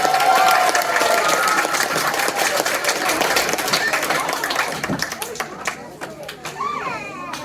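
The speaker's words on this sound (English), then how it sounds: "One more round of applause for our piglets and the three little pigs." An audience claps and cheers for child performers playing piglets and the three little pigs at a fine arts camp show of Horton Hears a Who, dense and loud at first, then thinning out as scattered claps and crowd chatter take over.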